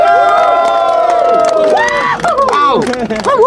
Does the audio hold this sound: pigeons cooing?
no